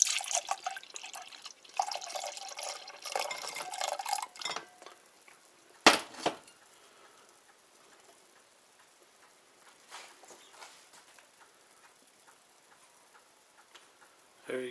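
Homemade rhubarb wine is poured into a glass, giving a splashy trickle for several seconds, then a sharp clink, followed by quieter drips and small knocks in a still room.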